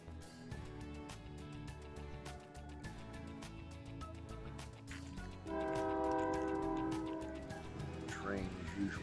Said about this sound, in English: Train as usual.